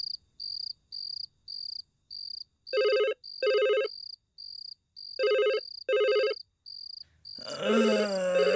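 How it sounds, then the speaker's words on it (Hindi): A telephone rings at night indoors in repeated short bursts, mixed with a steady pulsing chirp against quiet background, before a voice begins speaking at the end. "इतनी रात को कौन फोन कर रहा है यार?"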